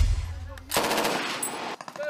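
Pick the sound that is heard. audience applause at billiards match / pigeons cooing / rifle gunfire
rifle gunfire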